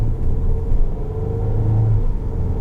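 A 2014 Ford Explorer Sport engine drones and revs while driving, a loud steady low rumble with a slight rise in pitch, heard close inside the cabin.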